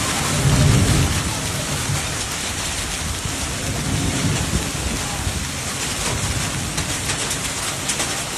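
Heavy rain pours down during a South Carolina thunderstorm, a dense, loud, unbroken hiss with deep thunder rumbling underneath.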